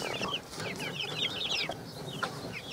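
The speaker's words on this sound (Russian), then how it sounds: "Цыплят вывели на улицу." Chicks put outdoors in a village enclosure, with repeated high cheeping and clucking from several birds alongside farm fowl sounds, close and steady throughout, with no talking.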